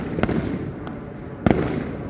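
Fourth of July fireworks explode in two sharp, gunshot-like booms about a second apart, loud against a steady rumbling background.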